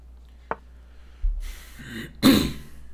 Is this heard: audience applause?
no